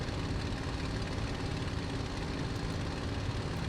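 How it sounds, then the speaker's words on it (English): A continuous droning Messerschmitt Bf 109 G-6 propeller engine in Microsoft Flight Simulator roars evenly throughout, rough and throaty like a tractor, steady in loudness with no voices. "it sounds like a tractor, doesn't it?"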